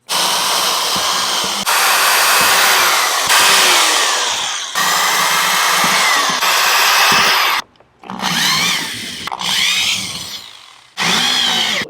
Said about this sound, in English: So let's go ahead and drill these up.